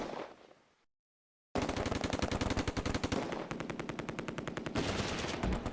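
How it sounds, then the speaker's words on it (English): A 6-pounder anti-tank gun in the Close Combat video game fires in rapid, loud repeated bursts of sharp reports after a brief silence. "Good rate of fire. The 6-pounder has found the range"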